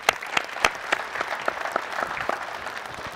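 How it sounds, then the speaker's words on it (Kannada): A quiz show studio audience applauds, a dense burst of clapping that starts with a few loud claps and then settles into steady, slightly fading applause over a few seconds. "ಈ ಪ್ರಶ್ನೆಗೆ ನೀವು ಸರಿಯಾಗಿ ಉತ್ತರ ಕೊಟ್ಟಿರೋದ್ರಿಂದ ಭೈರಪ್ಪ ಅವ್ರಿಗೆ ಒಂದು ದೊಡ್ಡ ಚಪ್ಪಾಳೆ."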